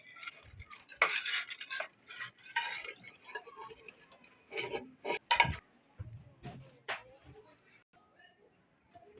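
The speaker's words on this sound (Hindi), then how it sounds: "तो अभी ये प्लेट धो रहा है।" A plate being washed at home during a family evening meal: clinks and scrapes of dishware with running-water hiss, close by, intermittent, with people talking over it.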